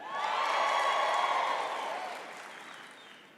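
Graduates at a university fall commencement ceremony cheer and applaud as a crowd, a loud sustained roar with whoops that swells early and then gradually fades over a few seconds.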